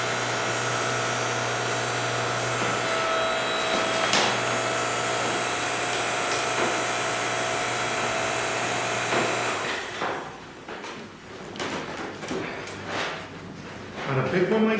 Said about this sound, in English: This is just a little 4-ton Ryobi splitter.